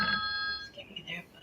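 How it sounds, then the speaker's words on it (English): A phone ringtone sounds in a short burst of steady electronic tones at the start, then cuts off as a person begins talking. "is that my phone?"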